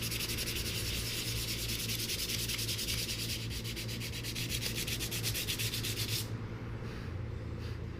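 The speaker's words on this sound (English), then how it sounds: "right now I'm just sanding to get rid of all this rust on here" Sandpaper rubs rust off a metal part of a 1975 Kawasaki KZ400 motorcycle in quick, rhythmic back-and-forth strokes, close and scratchy, stopping abruptly near the end.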